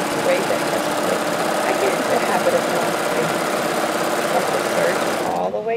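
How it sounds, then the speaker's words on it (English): A serger stitches a seam down a lightweight-fabric zipper bag, trimming the edge as it goes, with a loud, continuous, fast mechanical whir up close that cuts off just before the end. "Just serge all the way"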